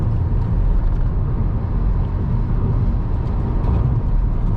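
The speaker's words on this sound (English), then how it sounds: "2400 RPM again, revving again." Hyundai Verna car engine held around 2400 RPM on a highway run, a steady low droning rumble with road noise, constant and unbroken throughout.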